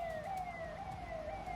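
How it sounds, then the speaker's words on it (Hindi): Police sirens wail steadily in Pahalgam, Kashmir, a continuous rising-and-falling electronic tone over low background rumble, loud and close, with no talking. "पहलगाम में सायरन की आवाजें सुनकर आप अंदाजा लगा सकते हैं"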